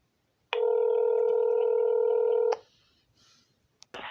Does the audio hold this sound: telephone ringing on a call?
yes